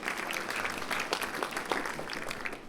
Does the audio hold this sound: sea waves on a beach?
no